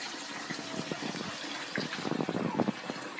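Muddy water gushing and splashing from a pipe in Bonagua, Moca, a steady close rush with bubbling bursts toward the end.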